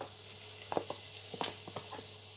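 Rice sizzling in a hot pan with ginger paste added, a steady soft frying hiss broken by a few short scraping stirs, with no talk.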